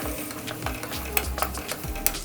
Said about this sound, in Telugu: వీటన్నింటినీ చక్కగా కాసేపు ఒక వన్ టు టూ మినిట్స్ వరకు ఫ్రై చేసుకుందాం